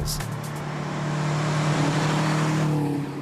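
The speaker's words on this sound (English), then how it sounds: "The 125-shot bottle injects plenty of life into the 2-litre Boxer engine." Subaru STI with a 2-litre Boxer engine, forged internals and a 125-shot nitrous bottle, roaring in a loud steady drone that swells slightly and holds a strong tone, without talk.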